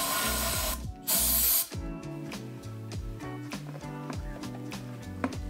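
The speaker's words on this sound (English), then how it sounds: "Then we're gonna take the brake cleaner, spray it in there, clean everything off real nice." Brake cleaner sprayed into a RockShox Pike mountain bike fork: a short, loud hissing burst of under a second, close to the mic, over steady background music.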